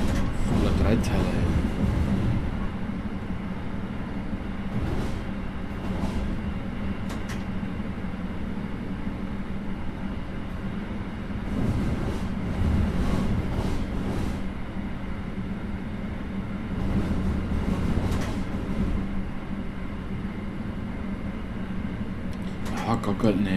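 Rumbling S-Bahn commuter train running in Train Simulator Classic, a steady low engine and rail drone throughout with occasional clicks and brief hisses, while someone talks over it.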